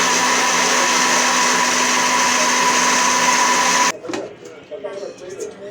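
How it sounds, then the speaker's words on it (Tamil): A mixer grinder jar grinding a creamy paste for paneer butter masala, whirring loudly and steadily for about four seconds before stopping abruptly, then a voice speaking. "அதையும் நல்லா போட்டு மிக்ஸி ஜாரில் நல்லா அரைச்சாச்சு"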